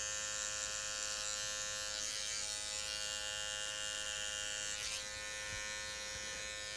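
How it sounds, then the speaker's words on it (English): Sharp electric hair clippers trimming fuzz from the back of a man's neck during an undercut haircut, a steady close motor buzz with slight shifts in pitch as the blade moves, no talk. "So these clippers are really sharp if you have a good trimmer, so you really don't have to press."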